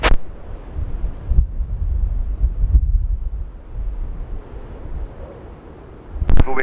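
Strong storm wind roars and buffets the microphone at Schiphol Airport, a loud, continuous rumble with surging gusts and a couple of sharp bursts at the start and end.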